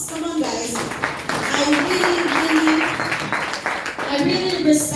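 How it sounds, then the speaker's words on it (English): Audience applause at an achievement programme event, a dense patter of clapping hands under a raised voice, lasting a few seconds with crowd noise mixed in. "Let's give them a round of applause"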